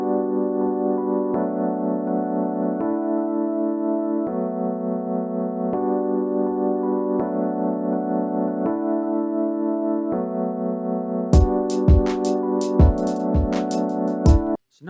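Sustained mini piano chords change every second or so in a looping progression with a processed, effected tone, joined near the end by sharp percussive hits, all close and loud with no voices.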